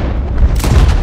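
A pump action shotgun fired in the video game Red Dead Redemption 2, giving one loud, close, deep boom with a short rumbling tail and no talk over it.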